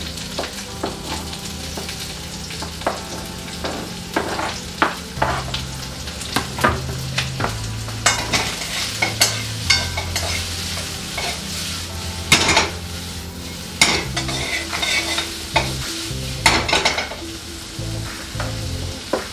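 Garlic, scallion and onions frying over medium heat in a pan, a continuous loud sizzle broken by repeated sharp clinks and scrapes of a utensil against the pan, with no voices.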